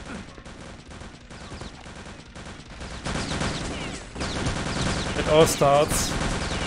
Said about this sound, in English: Nice shots from Kevin here.